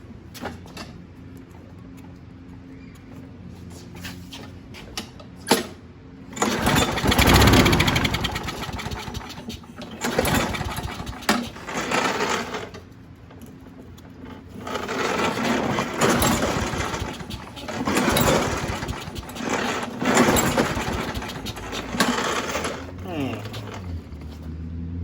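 A 2004 Craftsman lawn mower engine, recently repaired for a fuel leak, cranks with a few pulls and then sputters into uneven running, surging and dropping close by, with mechanical rattles mixed in.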